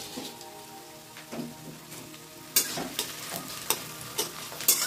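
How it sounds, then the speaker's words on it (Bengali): Chopped onion and chili fry in a pan with a soft sizzle, then a spatula scrapes and stirs in a few sharp, irregular strokes over the crackle, fairly quiet and close. "এটা ভেজে নেবো ভালো করে"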